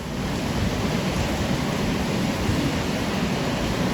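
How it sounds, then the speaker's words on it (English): Heavy rain pours steadily, a dense, continuous hiss with no breaks, close and fairly loud throughout. "man, it's pouring"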